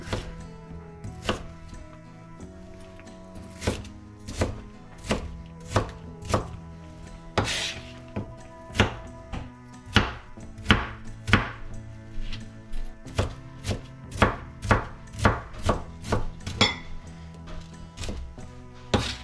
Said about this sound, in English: I'm putting a whole onion in here. And I'm just going to cut it up.